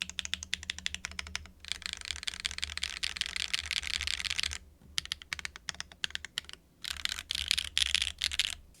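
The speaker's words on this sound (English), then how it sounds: "The right spacebar sounds a lot better than the left." Typing on a QK Alice Duo split mechanical keyboard, crisp clustered keystrokes and spacebar thocks in fast bursts with brief pauses, close and clear with no talking.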